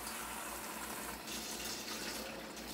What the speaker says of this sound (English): I'm adding in a cup of water.